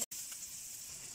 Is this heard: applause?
no